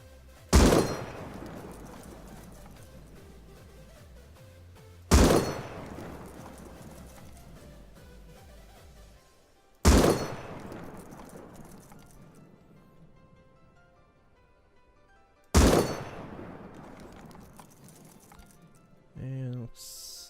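M249 firing in the game Rust with a laser sight fitted. Four loud single shots land about five seconds apart, each with a long ringing tail over a soft low rumble.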